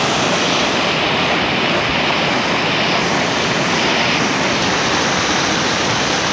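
Steady, roaring rush of heavy overflow water pouring over the Phalina Dam spillway, a dense broadband noise that stays constant and loud throughout.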